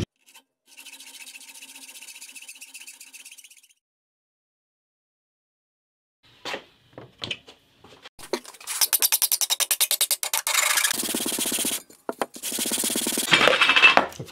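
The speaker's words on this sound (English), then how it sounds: "So that then will allow me to rub that against the frets that I don't want to tape down" An abrasive strip is rubbed back and forth against the frets of a handmade guitar in a workshop, with fast rasping strokes arriving in close, loud bursts between short pauses and a few light knocks.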